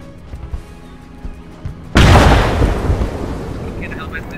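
A grenade explosion in a tactical military shooter, a single loud, sudden blast that cuts through quiet background and rumbles away over a few seconds, with voices speaking before it.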